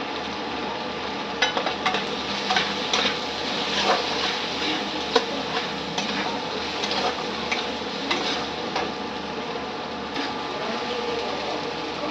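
Tomato added to frying onion, chili and cumin masala in oil for dal fry, producing a constant close sizzle with intermittent spatula scrapes and taps as it is stirred.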